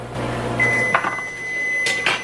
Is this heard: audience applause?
no